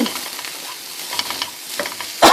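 Ivy gourd is stirred and tossed in hot oil, a gentle frying sizzle broken by a few scraping strokes of a spatula and a louder clatter at the very end.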